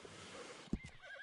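A horse neighs once in a cowboy video game, a short, fairly close whinny set against a soft background bed of game ambience.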